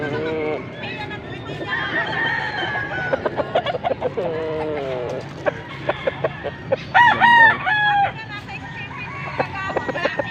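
Basilan roosters crow repeatedly at a poultry spot in Angeles, Pampanga. Several overlapping cock-a-doodle-doos and clucks come from near and farther birds amid a murmur of people talking.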